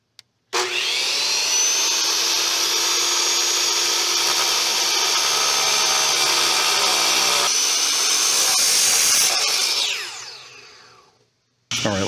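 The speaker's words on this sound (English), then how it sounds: "I put my brick on the miter saw, which is equipped with a masonry cutoff wheel." A miter saw fitted with a masonry cutoff wheel slices through a brick, a loud, continuous abrasive whine that holds steady for about nine seconds and then winds down as the blade spins to a stop.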